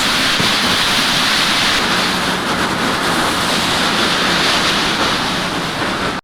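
Steady broadband watery hiss with a constant roar underneath as tyres spray through wet road and puddles in a racing game, continuous and loud with no voices.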